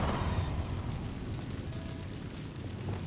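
A fire spell called Incendio cast in Hogwarts Legacy: a sustained, roaring whoosh of flame with a low rumbling body, fairly steady and close throughout, no voices.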